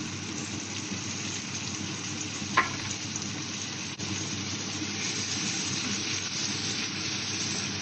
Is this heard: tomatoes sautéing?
yes